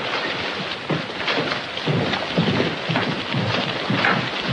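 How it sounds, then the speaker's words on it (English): Heavy rainstorm with thunder in a 1939 Western film scene, a dense continuous hiss of rain with low rumbling surges recurring every second or so, loud and steady without voices. "that depends on how long the storm lasts"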